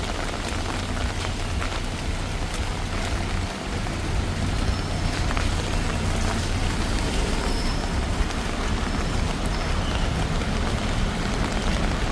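Rain falls on a Bangkok street during the monsoon rainy season, making a dense, constant patter and hiss on hard surfaces that holds steady from start to finish.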